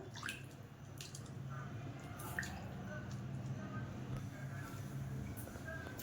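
Homemade butter being washed by hand in water while making ghee gives soft drips, splashes and squelching sounds. They are quiet and close against a low background hum.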